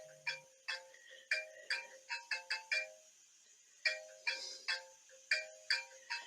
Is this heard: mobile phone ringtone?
yes